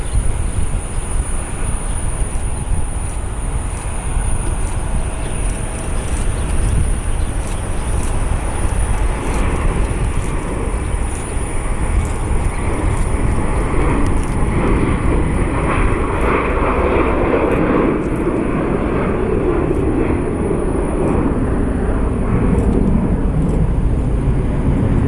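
Steady, loud roar of an American Airlines jet airliner taxiing at Columbus John Glenn International Airport, a broad engine rumble with a high whine that swells slightly toward the end, no voices.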